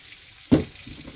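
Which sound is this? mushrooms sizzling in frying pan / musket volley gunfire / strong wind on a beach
mushrooms sizzling in frying pan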